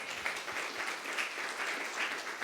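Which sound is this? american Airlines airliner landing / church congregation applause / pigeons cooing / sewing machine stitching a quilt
church congregation applause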